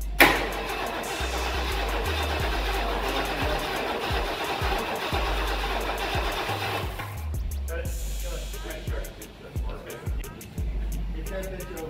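A 1967 Lincoln Continental convertible, found in a barn, cranks with a rhythmic low chugging for several seconds before the engine note changes as it tries to catch, loud and close, with voices nearby.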